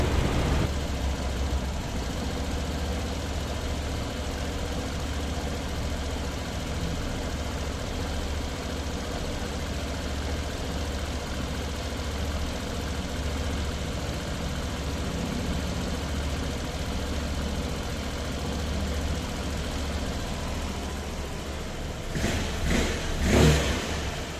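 A Suzuki Burgman Street EX scooter with an engine issue runs steadily at idle for a long stretch, close and continuous, then briefly rises in a short rev near the end.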